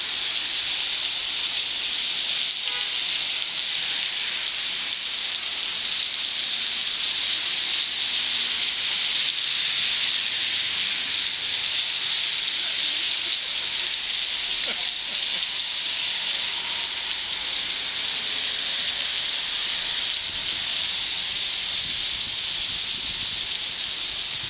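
Rain falling in Mallorca, a steady, dense hiss of drops on surfaces that holds evenly throughout without pause.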